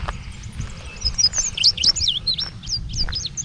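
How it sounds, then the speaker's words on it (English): A yellow or hooded warbler sings outdoors at dawn near a thicket at Shaker Village of Pleasant Hill, Kentucky, with a run of high, clear whistled notes rising over a low rumbling background. "it's either a yellow or a hooded warbler"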